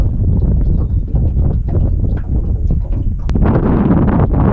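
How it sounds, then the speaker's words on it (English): Steady wind buffets a boat on a bayou while fishing for shrimp-baited trout, a constant broadband rush across the microphone with a brief sharp knock near the end and a louder gusty stretch after it. "The wind has just been relentless all day, killing us."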